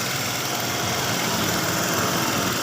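A Honda Vario 125 scooter engine idles steadily up close, a constant buzzing, slightly rough hum with even vibration and no speech over it.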